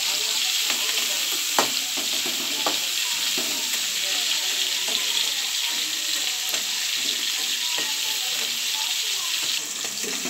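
Crab pieces fry in spicy masala in a pan with a steady, close sizzle and occasional stirring clicks, with no talking.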